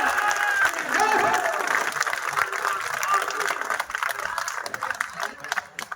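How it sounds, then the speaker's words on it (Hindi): Applause from the audience at a Hindi poetry recital (kavi sammelan) at a fair in Sandila: a steady wash of crowd clapping that continues for several seconds and thins slightly toward the end. "तालियां कमजोर रहेगी।"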